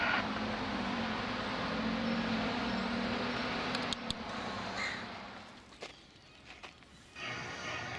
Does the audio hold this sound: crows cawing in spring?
yes